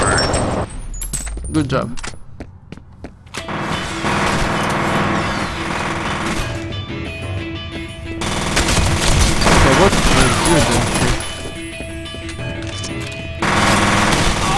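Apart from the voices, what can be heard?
sniper rifle gunfire in video game Fear Perseus Mandate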